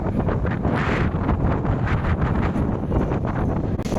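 Strong wind at an airport near the sea buffets the microphone in a loud, continuous rushing roar with gusty swells throughout, no other clear sound above it.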